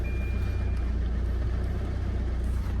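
A diesel vehicle is driven out, its engine idling with a steady low rumble close by, and a faint steady tone sits over it throughout.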